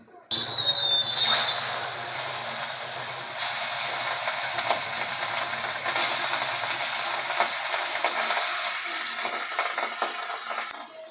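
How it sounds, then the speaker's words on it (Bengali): Hilsa fish pieces hit hot mustard oil with a loud burst of sizzling, then a steady crackling hiss that swells as more pieces go in, gradually easing. "এখানে মাছগুলো আমি একে একে দিয়ে ভেজে নেব"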